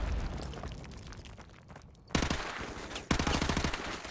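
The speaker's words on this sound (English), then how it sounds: "Someone's throwing nades?" Grenade explosions in Call of Duty 4: Modern Warfare, two sharp loud blasts about a second apart, each with a rattling burst and a short decay, following a quieter rumbling stretch.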